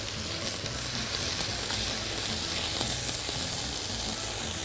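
Garlic fries in ghee with a bright, steady sizzle close by, broken by occasional light stirring sounds, and no talking.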